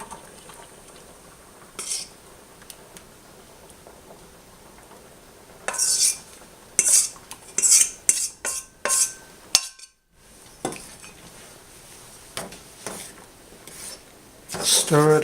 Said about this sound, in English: Stir it up a little so it doesn't go.